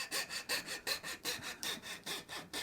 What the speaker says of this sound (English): coping saw and just trying to saw down in between those legs was pretty difficult